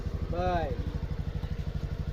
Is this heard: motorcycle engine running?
yes